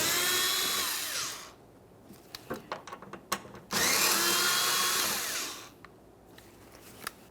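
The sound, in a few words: removing Phillips head mounting screws, Toyota Sienna bumper bracket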